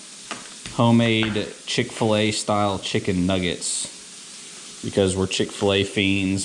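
Homemade Chick-fil-A-style chicken nuggets fry in the background, a soft rain-like sizzle running beneath someone talking close by.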